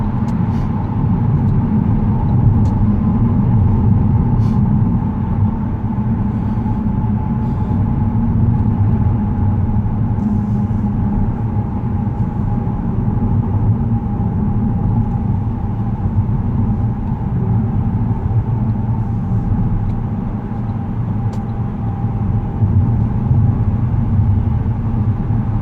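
Steady road rumble and engine drone from a manual-transmission car cruising on a freeway, a continuous low hum with a faint tonal whine, close and constant with no talking.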